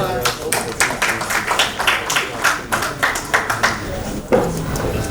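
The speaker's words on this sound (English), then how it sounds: "A round of applause." Applause from a roundtable audience at a society's plaque presentation, a steady round of claps with scattered sharper hits, fairly close and filling the room, with a brief voice near the end.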